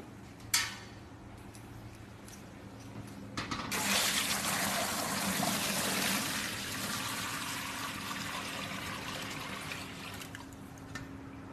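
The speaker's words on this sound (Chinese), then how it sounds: "加入清水这个脱模槽" Clean water pours into the demolding tank of a popsicle-making machine, a steady rushing fill that starts after a few seconds of quiet and gradually eases to a softer trickle, close and loud.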